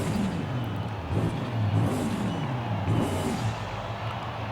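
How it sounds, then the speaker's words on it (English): Turbocharged race and drift car engine running steadily with a broad roaring drone and a rising, falling whine as it accelerates, loud and continuous with no voices. "You can hear that turbo."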